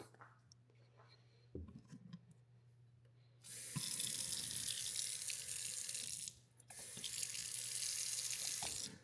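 A kitchen sink faucet in a house being toured is switched on and gushes steadily, cuts off briefly, then runs again, with quiet handling sounds before the flow starts.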